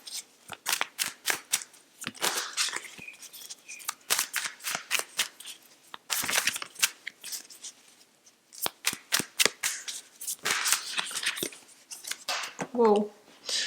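Tarot cards being shuffled and pulled, crisp riffling and sliding bursts with short pauses between them, with a voice speaking briefly alongside.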